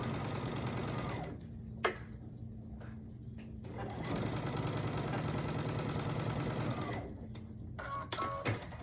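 A sewing machine stitching a quilt block seam runs in long steady whirring stretches, stopping briefly twice with faint clicks and handling noises in the gaps, close up with no talking.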